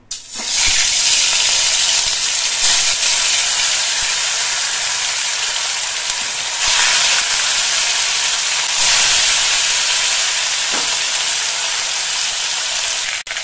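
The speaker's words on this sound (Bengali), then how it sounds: "এবার মাছের পিসগুলো আমি ভেজে নেব।" Hilsa fish pieces fry in hot mustard oil in a kadai, producing a loud, continuous hissing sizzle that swells briefly a few times.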